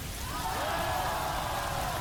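Steady rain hisses and patters as a dense, even wash throughout, heard indoors as background ambience on a rainy election night in 1988, with no talking.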